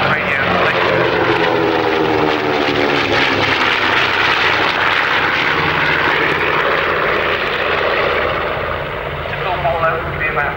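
Medium-range twin-engine tactical bomber with two Wright Cyclone radial engines flying past at an air show at RAF Finningley, a loud sustained propeller drone with shifting pitch as it passes, a voice talking over it.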